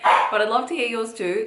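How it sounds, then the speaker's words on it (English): A dog barks and yips several times close by, short sharp bursts in quick succession, mixed in with someone speaking indoors. "Sorry about the dog."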